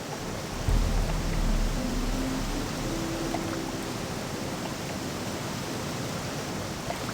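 Rushing water from a waterfall in the Gothic II video game, a steady broadband roar running throughout at moderate level, with a brief low thump and some faint tonal game sounds near the start.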